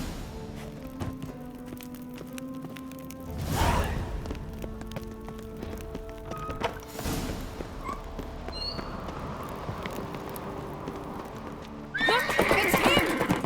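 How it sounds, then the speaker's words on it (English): In The Witcher 3: Wild Hunt, a horse neighs loudly in short bursts amid the clip-clop of hooves over a rain-like wash of ambience, with a final close whinny at the end. "Grab a horse, we'll chase him down."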